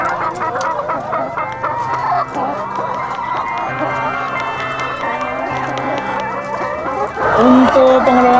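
Chickens at a poultry farm run by an Islamic boarding school in Indonesia cluck and squawk steadily in a dense flock, with a louder squawking burst near the end, close and busy with no talk over it.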